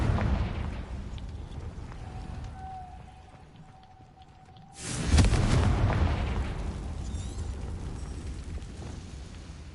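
A Confringo fire spell bursts in Hogwarts Legacy, a quiet lull with a thin rising tone giving way to a sudden heavy explosion, loud and booming, with a rumbling tail.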